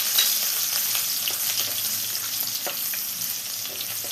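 Shallots fry in about two tablespoons of coconut oil in a pan, a close, steady sizzle with occasional stirring scrapes and no talk.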